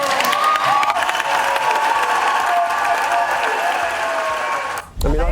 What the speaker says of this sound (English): Are they applauding the content or the end?